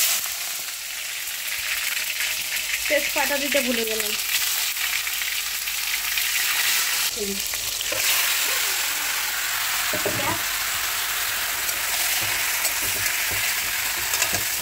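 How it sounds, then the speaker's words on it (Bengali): Tomato dropped into very hot oil, a loud continuous sizzle and crackle throughout with occasional stirring scrapes, while someone speaks briefly over it. "তো ফার্স্টে আমি তেলে টমেটো দেব, তেল ভীষণ গরম হয়ে গেছে, এই দেখো ছ্যাঁত করে উঠবে দেওয়ার সাথে সাথে"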